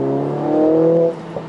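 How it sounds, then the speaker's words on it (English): A 2021 Mercedes AMG A45 S engine in race mode, a brief loud droning roar that holds for about a second, then drops off as the throttle is released. "when you let go the acceleration pedal, you can hear that AMG sound"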